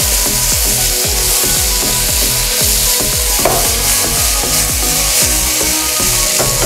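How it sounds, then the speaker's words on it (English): Buffalo tongue fries with spices in a pan, a loud steady sizzle broken by a regular rhythm of scraping, stirring strokes close by, with no talking. "aba yeslai pani hamile ekchin mazale fry garchau."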